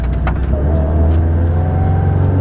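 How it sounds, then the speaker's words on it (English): A turbocharged 500HP Subaru STI engine drones steadily at a loud, close level, a sustained rev with a faint turbo whistling whine riding on top. "I missed those turbo noises"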